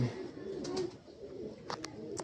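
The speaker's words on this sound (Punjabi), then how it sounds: "ਹਾਂ ਕਬੂਰੀ ਆ" A female pigeon coos softly nearby, a few low throaty calls over a quiet background with light scattered sounds.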